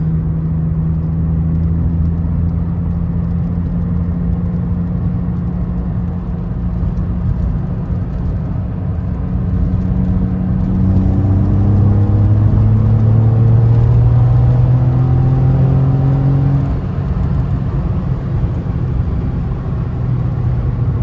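An Alfa Romeo 155 running on the road, heard from inside the cabin as a loud, steady engine drone with rising and falling revs as it accelerates and shifts through gears.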